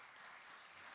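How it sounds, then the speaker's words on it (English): An audience at an entrepreneurship competition claps for finalist teams, a dense, even burst of applause that fills the short moment. "how about a round of applause for our 3 finalist teams"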